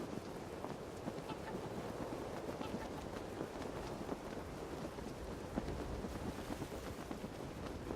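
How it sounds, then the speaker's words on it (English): Winter wind blowing steadily off the mountains, a broad continuous rushing roar with gusty buffeting, loud and unbroken throughout. "To the challenge of ice and cold, add another:"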